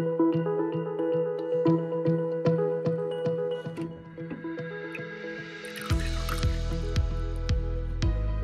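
Water splashing and dripping into a ceramic pet water fountain, starting with repeated distinct drips and trickles, then turning into a stronger, fuller pouring stream near the end.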